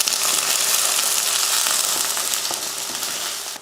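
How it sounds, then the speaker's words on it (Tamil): Onions sautéing in oil in a kadai with curry leaves, urad dal, mustard seeds, garlic and green chillies, a loud, steady, close hiss of frying that carries on evenly with no talking. "வெங்காயத்தை இது போல் நல்லா கருக விடாமல் வதக்கிக்கணும்"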